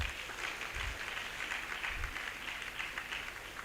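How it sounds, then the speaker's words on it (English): Faint, distant audience applause at a security education trainers' summit, a soft steady patter of clapping throughout. "A round of applause for yourselves."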